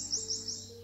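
A wren gives three quick high chirps, close and clear over a quiet background with a steady low hum.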